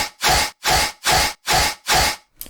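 Annoying noisy underlayer sample from a BeutNoise-style music track: five loud, even bursts of harsh broadband noise, each about a third of a second with short gaps, ending in a clipped sixth hit.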